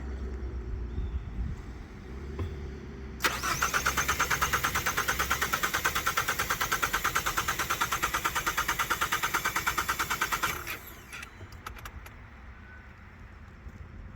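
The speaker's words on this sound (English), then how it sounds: "As you can hear, the fuel pump is still trying to kick." A Hyundai car engine cranks repeatedly with a rapid rhythmic chugging of the fuel pump for several seconds, then stops, leaving quieter mechanical sounds nearby.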